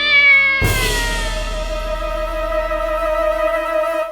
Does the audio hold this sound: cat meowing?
yes